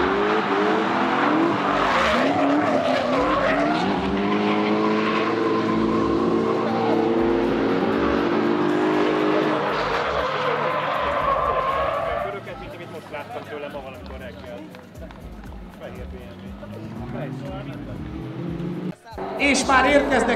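BMW E30 race car engines roar and rev loudly with tires squealing at a speed festival, a Hungarian commentator talking excitedly over the noise throughout.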